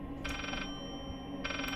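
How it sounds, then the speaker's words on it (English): Electronic phone ringing inside the horror video game Layers of Fear, two short trilling bursts separated by a pause, moderately loud over a low ambient hum with no talk. "Is that a phone?"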